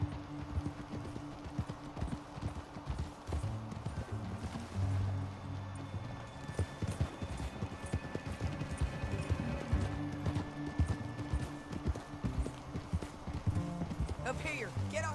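Rhythmic clip-clop of horse hooves at a steady trot in Red Dead Redemption 2, moderately loud, with a brief whinny-like cry near the end.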